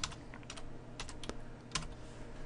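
Keystrokes on a computer keyboard while entering code for a web page, a quiet run of close clicks with short pauses and a few sharper taps.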